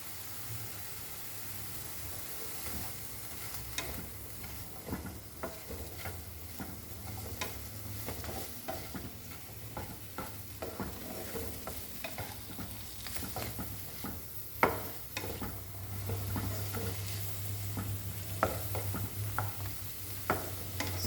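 Vegetables for Goan-style veg pulao roast and fry over a high flame, a soft steady sizzle with frequent light stirring scrapes and clicks, one louder knock partway through.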